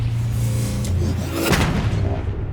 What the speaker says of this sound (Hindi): पर उसके बोलने से पहले ही नीचे से तोप चल जाती है।